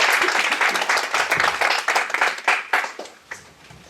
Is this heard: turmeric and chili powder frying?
no